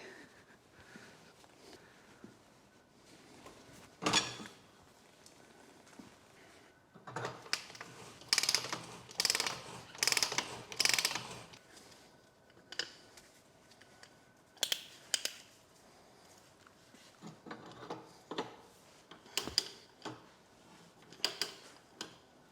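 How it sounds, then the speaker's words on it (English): An old hand pipe threading set cutting threads on gas pipe in a workshop gives faint, close ratcheting and grinding clicks, grouped in short bursts with quiet gaps between them and no talking. "I've got a pipe threading set that was his"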